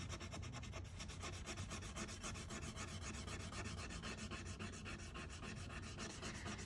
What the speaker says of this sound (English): Rub this down again.